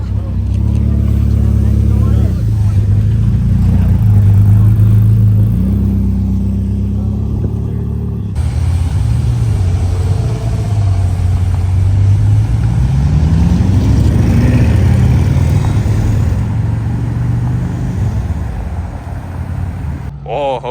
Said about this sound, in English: This is freaking mental. Another F40 rolling in.